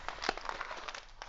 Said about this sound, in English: You're going to use your second piece of paper and we're going to crumple it.